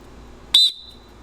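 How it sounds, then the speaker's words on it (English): A safety whistle on a PFD gives one short, sharp, shrill blast close by, lasting under a quarter second against a quiet background. "having a PFD with a whistle attached to it."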